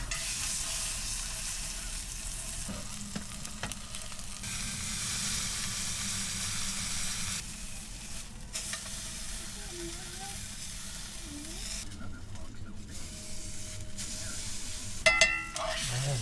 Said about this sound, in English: Let's get the side seared up.